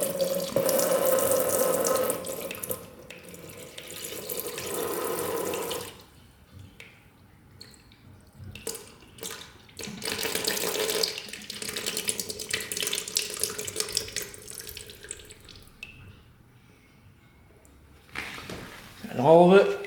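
Coolant drains out of a big bore two-stroke quad that had overheated, running as a steady trickling and splashing stream that pauses and resumes, with voices talking nearby.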